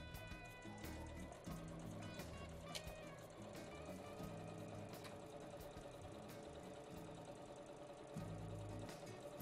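A sewing machine runs continuously along a straight seam on fabric, a faint steady mechanical whir with rapid rhythmic ticking heard alone without talk.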